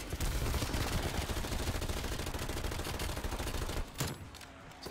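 Dense, loud SMG gunfire in a Call of Duty Zombies round-survival match, rapid automatic bursts firing almost without pause for about four seconds before a brief break and a final shot.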